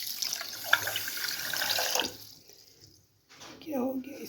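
Water pours into a cooking pot on a lit stove while making semolina halwa, a steady broadband splash lasting about two seconds, then quieting before a brief clatter and a faint voice.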